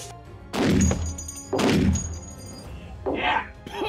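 Shots from a Barrett Model 82A1 .50 caliber rifle, two heavy booming reports about a second apart with thudding decay, followed by a fainter impact sound.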